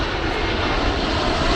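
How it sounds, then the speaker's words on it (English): A Viva Aerobus airliner coming in to land near the airport in Torreón, Coahuila, a loud continuous engine roar close overhead, steady throughout with no talk. "Yeah, there's a plane landing."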